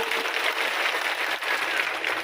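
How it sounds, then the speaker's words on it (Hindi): Applause from an audience at a tribal rights conference rally in Bajna, a dense, steady clatter of many hands sustained throughout without any voices. "एक बार जोरदार ताली हो जाए उनके साथ में जोरदार"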